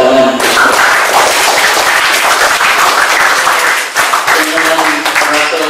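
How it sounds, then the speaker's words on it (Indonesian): Loud audience applause rises at a jubilee celebration for priests and religious, a thick sustained clapping from a large crowd, with music and a voice faintly underneath. "Kita tepuk tangan."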